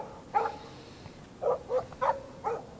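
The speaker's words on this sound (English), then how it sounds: "No barking." Dog in the Life is Strange video game barking in short bursts: one bark, a pause, then four quick barks in an irregular rhythm, moderately close over a quiet background.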